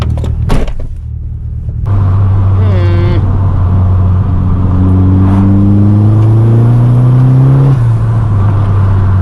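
Turbocharged Vauxhall Corsa B with a C20LET engine pulling hard, a loud rising engine note climbing steadily through the revs after an opening blip, heard from close inside the car.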